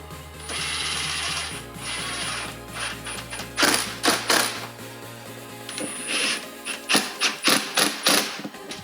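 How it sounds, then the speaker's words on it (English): Clamps on an Injen cold air intake being tightened on a BMW F8X S55 engine: bursts of quick ratchet clicking, near and fairly loud, in short irregular runs over a faint background hum. "Now we can tighten up our clamps."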